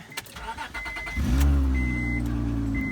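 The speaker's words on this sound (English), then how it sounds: "I'll go ahead and start the car." A few clicks and rattles, then a Honda Pilot engine with a power steering problem cranks and catches, settling into a loud steady idle with a faint beeping chime.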